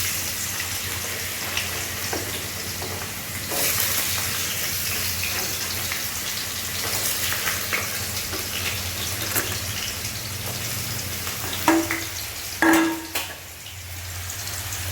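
Halved potatoes fry in a pan with a steady, close sizzle and hiss lasting throughout, broken near the end by a few clanks and scrapes of stirring.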